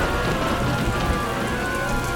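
Steady heavy rain pours and patters on surfaces in a children's train story, a dense even hiss of drops at close range, with no talking.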